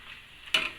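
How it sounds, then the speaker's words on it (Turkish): Tomato paste and onions being stirred and sautéed in a pan for a beef-filled crepe dish, a low steady sizzle that jumps louder with a sharp hiss and scrape about halfway through, close up. "Biraz kavurmaya devam ediyoruz. Salçamızla da beraber."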